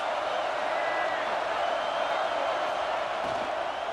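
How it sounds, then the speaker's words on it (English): Steady roar of a large stadium crowd at a UCLA versus Ohio State college football game, loud and continuous with a broad wash of voices and cheering throughout. "This crowd trying to make life miserable for this offense."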